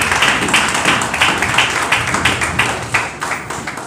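A church congregation claps hands together in a steady, rhythmic beat, a full room of many hands sounding close and loud throughout.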